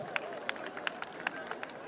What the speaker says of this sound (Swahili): Makofi ya mwisho kwa wazee wetu.